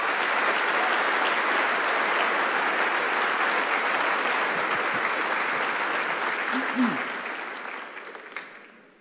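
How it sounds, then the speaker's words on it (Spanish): A church congregation applauds loudly and continuously, the clapping slowly fading toward the end, with a voice briefly rising above it. "Denle un aplauso fuerte al Señor."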